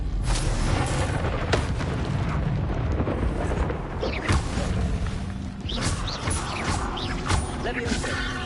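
Incendio fire spells erupt in a Harry Potter video game, a dense, loud run of booming blasts and crackling bursts over a rumbling battle mix, with voices calling out spells.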